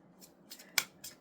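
Tarot cards are shuffled by hand, giving a few short, crisp papery snaps spaced irregularly over a quiet background.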